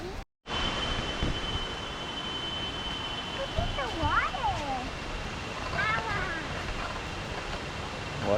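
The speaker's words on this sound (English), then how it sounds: "The waterfalls, I can hear them." Roberto Barrios waterfalls in Chiapas, Mexico, heard as a steady broadband rush of falling water throughout, with a brief dropout at the start, birds chirping faintly and a high insect-like whine above.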